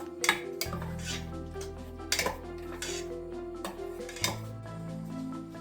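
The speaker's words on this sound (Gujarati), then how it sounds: "તો હવે આ બધું સરસ રીતે આપણે મિક્સ કરીશું પાછું અને થોડી વાર થવા દઈશું." Tomato pizza sauce mixed in a pan, a utensil clinking and scraping against metal in several distinct strikes over a low steady hum, close, with no talking.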